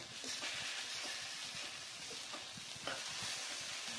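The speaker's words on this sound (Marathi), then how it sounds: "एकदा आपण हलवून घेऊया" A cooked alliv (garden cress) seed mixture for sweet laddoos is stirred in a pan, giving soft scraping strokes over a low, quiet sizzle, with no one speaking.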